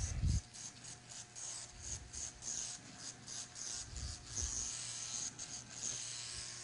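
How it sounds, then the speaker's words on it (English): An electric shaver trimming down a section of a hair weave, a steady low buzz with rhythmic raspy strokes repeating over several seconds, close and moderately quiet with no talking. "I'm going to shave it down right now."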